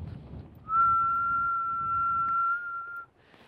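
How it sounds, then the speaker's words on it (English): A single person whistles one steady, sustained tone used to keep a smooth, even putting-stroke tempo, clear and close against faint room noise, with no talking. "whistling will do the same thing"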